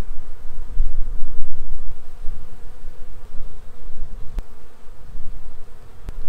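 Honeybees hum steadily inside a weak hive being joined to a stronger colony, a dense close buzz with faint clicks and no talk.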